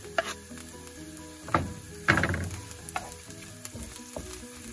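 Chopped onions sizzle and fry in oil with garlic in a pan, a steady close crackle broken by a few louder bursts as they are stirred.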